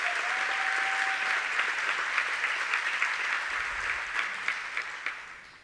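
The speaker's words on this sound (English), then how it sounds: "Let's give them an applause." An audience at a Latina leadership awards ceremony applauds steadily, a full room of clapping that holds evenly and then slowly thins toward the end.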